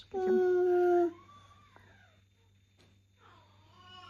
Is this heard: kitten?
yes